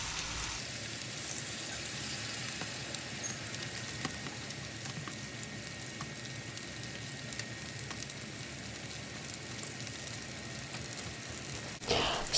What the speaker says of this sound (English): So once you start hearing that skin sizzling, just flip it over